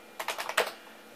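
Typing at the DOS prompt on a computer keyboard, demonstrated alongside a Creative Labs Sound Blaster 8-bit card: a short, quick burst of about five close, crisp keystrokes, then quiet.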